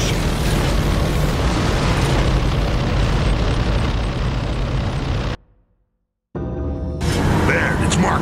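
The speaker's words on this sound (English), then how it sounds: "Next time I'm staying with an exploding gas station" Explosions and heavy rumbling boom from a gas station blowing up in the video game Gears of War, dense and loud for several seconds, cutting briefly to silence before more blasts and crackling debris return.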